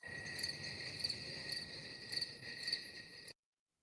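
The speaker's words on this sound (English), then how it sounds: "I heard some crickets." Crickets chirp in a steady, faint, continuous trill that pulses slightly, with no voices, then cuts to silence.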